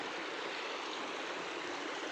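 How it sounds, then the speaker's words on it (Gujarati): Irrigation water flows steadily along a farm channel at night beside a wheat field, a soft continuous rushing stream with no voices. "એટલે જો પાણી આવે ફૂલે ફૂલ।"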